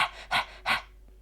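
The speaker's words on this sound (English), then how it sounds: "More dogs arrive, already panting in the heat." Dogs pant in the heat beside a park pond, with three quick, breathy bursts close by, followed by quiet.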